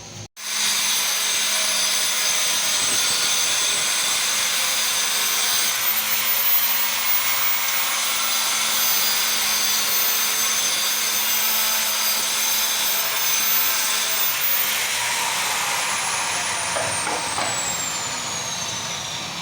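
A power tool cuts through pipe at a building site where plumbing is being laid before tiling, giving a steady, loud, high-pitched whirring grind that runs almost unbroken throughout, with no talking.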